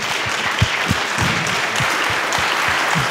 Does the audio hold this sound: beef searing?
no